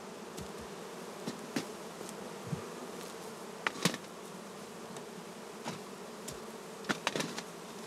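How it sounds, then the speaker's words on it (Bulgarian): Honeybees buzzing and flying around the entrance of an opened multi-storey Langstroth-Root hive, a steady quiet hum with individual bees zipping close past at irregular moments. "Отваряме прелката, за да може пчелите да летят."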